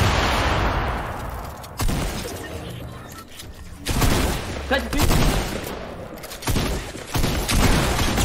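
Bursts of gunfire in Fortnite during a duo tournament warmup match crack out in loud clusters separated by short gaps, with a player's voice heard among the shots.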